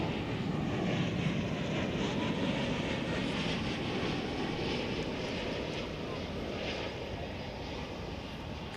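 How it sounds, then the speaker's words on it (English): A Boeing 737 MAX 9 airliner arriving at DFW airport gives off a steady, broad jet-engine roar at moderate distance that fades slowly, with faint radio-style chatter in the background. "Got Alaska Flight 549 coming in from Seattle."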